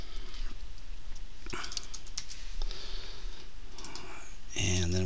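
Someone typing a file path on a computer keyboard while exporting a certificate on a Windows 2008 R2 server, with quick light key clicks in irregular runs and a voice talking over them.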